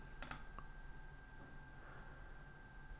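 A mouse click on a continue button: one or two quick, faint clicks near the start against a quiet background, then near silence.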